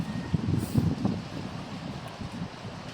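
Strong wind buffets an outdoor microphone near cold water, a steady low rumble with gusty swells and no voice.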